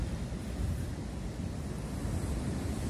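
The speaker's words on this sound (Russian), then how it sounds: "Сегодня море какое шумное, волнуется, волны какие идут." Rough sea on a stormy February day along a seafront promenade in Turkey: a dense, continuous roar of surf and wind noise, steady and fairly faint, with no one speaking.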